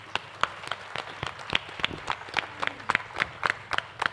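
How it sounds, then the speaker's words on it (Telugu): Scattered applause from a crowd at a church feast festival in Gunadala, Vijayawada: irregular individual hand claps, distinct and close rather than a dense roar, under a faint background hum. "చప్పట్లు కొట్టండి"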